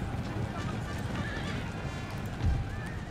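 Cavalry horses charge in an Empire: Total War battle, with whinnies and a rumble of hooves amid battlefield noise, under faint commentary.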